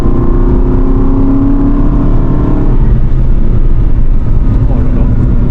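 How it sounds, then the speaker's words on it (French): An Aston Martin Vantage V8 pulls hard in third gear, its engine note a loud, steady, rising growl that fills the clip from start to finish with no talk over it. "juste une petite accèle en reprise de 3"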